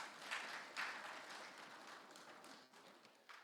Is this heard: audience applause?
yes